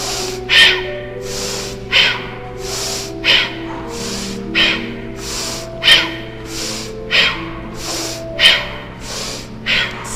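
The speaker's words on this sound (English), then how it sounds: "Strong inhale, strong exhale, in and out through the nose." Strong, forceful breaths in and out through the nose during a yoga exercise, repeating roughly every second in a steady rhythm, close and loud over a faint music bed.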